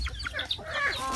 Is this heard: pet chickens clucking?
yes